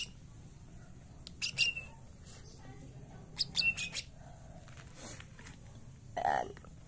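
Pigeons kept in a small cage give a few brief chirps and squawks at intervals, fairly close and faint against a low, steady background hum.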